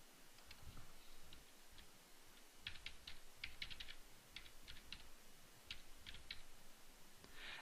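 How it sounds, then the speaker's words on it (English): Typing on a computer keyboard, entering a server IP address: rapid, uneven bursts of light key clicks, close and fairly quiet over a steady room hiss, with no talking. "let me just type the IP address of my server and connect to my service"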